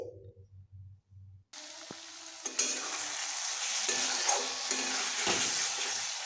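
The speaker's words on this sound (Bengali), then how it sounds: "এবার আমার মশলা থেকে বেশ তেল ছাড়তে শুরু করে দিয়েছে মশলা ভালোভাবে কষিয়ে নিলে" Spice masala for a parshe fish curry sizzles and fries in hot oil, a loud steady crackling hiss that bursts in suddenly after a few soft clinks and stirs, with occasional stirring scrapes in the pan.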